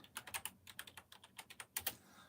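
Rapid, close clicking of keys on a computer keyboard, about a dozen crisp strokes in an uneven rhythm, quiet and alone with no talk.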